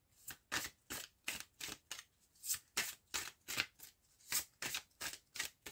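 Tarot cards being shuffled by hand in quick, repeated riffling bursts, about a dozen crisp rustles in an even rhythm, close and clear with no talking.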